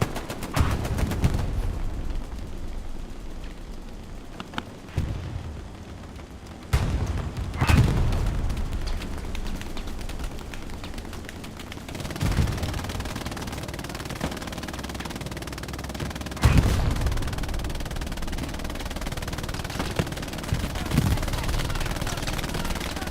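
MG42 machine gun fire in Hell Let Loose, a large 49-versus-49 World War II shooter match at Carentan canal crossing: repeated heavy bursts and booming impacts over constant battlefield din, with someone talking over parts of it.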